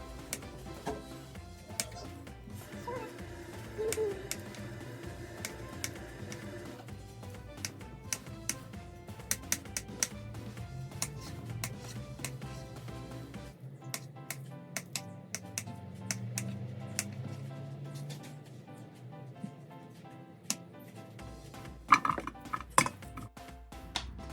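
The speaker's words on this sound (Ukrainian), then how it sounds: "Картоплю нарізаємо кубиками." Potatoes cut into cubes with a knife on a kitchen board make quiet, irregular tapping chops scattered throughout, faint and close, with occasional louder knocks near the end.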